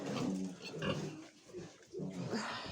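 Piglets due for weaning grunt on a pig farm, a dense, busy chorus of low snorts and grunts filling the pen from close by, dipping briefly mid-way before rising again.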